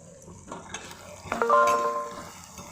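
Sprouted moth beans stir-fried in a pan for a spicy usal, a spatula scraping and clinking against the metal amid soft sizzling, with one sharper ringing clink partway through.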